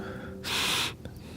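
A sharp, audible breath intake drawn in during a breathing demonstration, a single hissy inhale of about half a second, close and moderately loud, with no talking.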